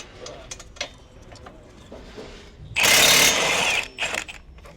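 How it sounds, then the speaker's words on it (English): An impact wrench breaks loose a 22 mm brake caliper bolt on a G35/G37 front suspension in a garage. It gives one loud, sustained burst of about a second after quiet shuffling and handling noises. "Get a little impact action on her."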